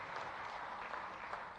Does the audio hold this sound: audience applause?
yes